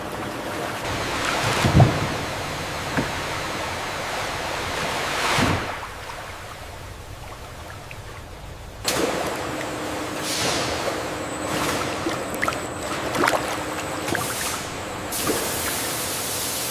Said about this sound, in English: The gentle hydraulic tipper begins the journey, carefully releasing fresh watermelons into purified water for cleaning.